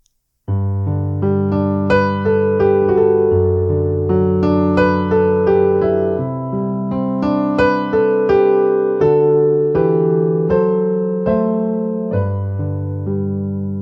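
Solo piano plays a gentle intro to a song of flowing chords and melody, steady and clear, with notes ringing into one another.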